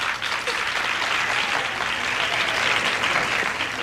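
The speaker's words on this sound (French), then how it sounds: "On applaudit notre concurrente numéro 8, Sheila" Steady applause from a contest audience, dense clapping sustained at an even level throughout without pause.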